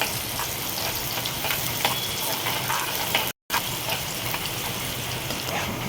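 Finely chopped onion fries in a pan with a continuous close sizzle and crackle, loud and steady, briefly cut by a short dropout in the middle.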